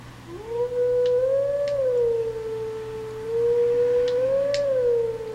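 A wolf howls in Zelda: Twilight Princess, a sustained tonal howl rising and wavering in two long phrases, loud and alone over a steady low hum.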